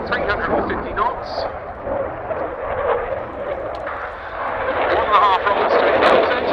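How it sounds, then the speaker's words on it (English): A Dassault Rafale fighter jet roars past at an airshow, a broad, sustained jet rumble building toward the end, with a commentator talking over it. "Aircraft in now at some 350 knots."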